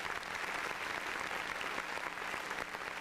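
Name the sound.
applause for a student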